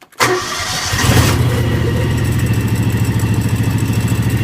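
A John Deere X724 four-wheel-steer lawn tractor engine cranks and catches on a semi-warm start, then settles into a steady, loud, close-up idle with a regular throbbing pulse.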